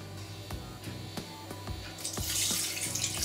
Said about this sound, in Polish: I wlewamy połowę naszej wody